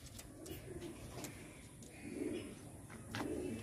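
Soft, low cooing from a single female pigeon, repeated in three gentle phrases, close by over faint background noise.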